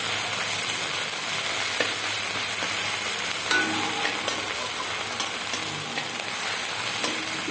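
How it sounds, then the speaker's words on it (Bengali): Ground cumin, coriander, black pepper and ginger paste fry lightly in a pan for a chicken curry, giving a steady, fairly loud bubbling sizzle with faint scrapes scattered through it. "হালকা করে ভেজে নিচ্ছি"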